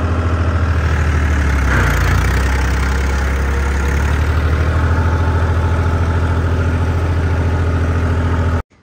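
A John Deere tractor engine idles steadily and loudly up close, a low rumbling chug that continues without change before cutting off abruptly at the end.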